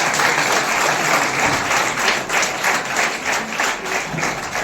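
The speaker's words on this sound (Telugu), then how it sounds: "అందరూ కూడా క్లాప్స్ కొట్టండి" Sustained applause from an audience at a public function, dense and fairly loud, holding steady from start to finish with no talking.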